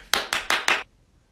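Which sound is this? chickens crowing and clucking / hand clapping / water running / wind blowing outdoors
hand clapping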